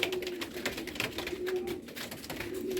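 Racing pigeons coo softly inside a basket after arriving from a race, a low repeated burbling under faint rustling and shuffling, with no talking.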